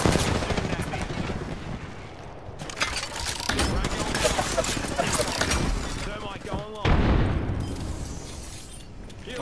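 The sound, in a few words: gunfire from an enemy squad in a shooter video game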